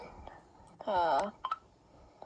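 A mobile phone gives a short electronic tone, a bright warbling burst of about half a second followed by a couple of brief chirps, standing alone in a quiet room.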